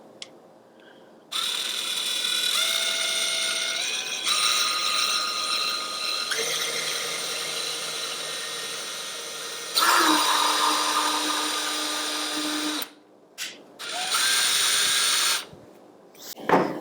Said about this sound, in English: now that we've drilled our pilot hole